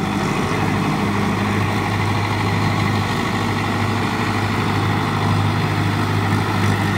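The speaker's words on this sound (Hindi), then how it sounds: "कद्दू 'च चलता पाया रोटावीटर ते" A tractor pulling a 7-8 foot rotavator through a puddled, flooded field, its engine giving a steady, loud low rumble that holds without a break from start to end, with no voices.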